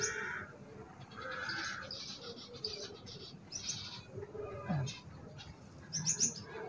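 Zebra finch chicks chirp in their nest with quiet, thin, high-pitched cheeps coming in short intermittent bursts over a soft background hiss.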